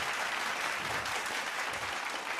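An audience at a talent show gives a loud, continuous burst of applause, close and steady throughout.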